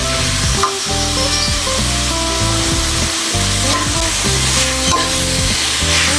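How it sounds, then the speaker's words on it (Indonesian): Chicken pieces sizzle and fry loudly in a hot pan as they are stirred for tongseng, a continuous close crackle broken by repeated scraping strokes of the spatula. "kita masukkan ayamnya. Kita aduk"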